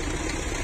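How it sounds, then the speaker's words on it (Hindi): A tractor engine runs at a vegetable market construction site on Chishtian Road, a faint, steady, low idling drone heard briefly on its own. "ट्रैक्टर चल रहा, ओ एक 260 भी चल रहा."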